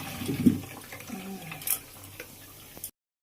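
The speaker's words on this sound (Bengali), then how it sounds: "আলুগুলোকে সব ঝুড়িতে ঢেলে জল ঝরিয়ে নিলাম" Boiled potatoes are tipped into a basket in a home kitchen while cooking egg biryani, with a short early splash of water followed by a quieter draining trickle, close by.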